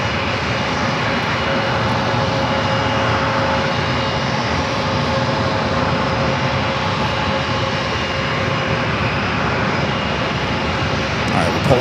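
A jet airliner roars in on approach to runway 27 at San Diego airport, a loud, steady broadband engine rumble that holds for the whole stretch with no voices.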